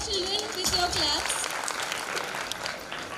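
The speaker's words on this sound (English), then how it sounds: "Parents, please motivate our children with your claps." Parents and guests applaud at a school award ceremony, a steady patter of clapping that swells and then tapers, with speech-like sounds mixed in.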